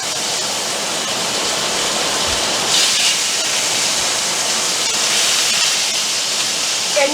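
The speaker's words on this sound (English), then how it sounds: "now you're going to put your pieces of meat on your skillet" Filet mignon steaks sizzle in plenty of butter in a skillet, a loud, steady hiss close by that holds throughout with small crackles and pops.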